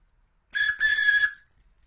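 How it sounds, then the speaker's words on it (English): A single shrill blast from a big plastic whistle, clear and close, lasting under a second with a brief break in the middle, surrounded by silence. "This is a later it's a plastic weird whistle. big plastic whistle."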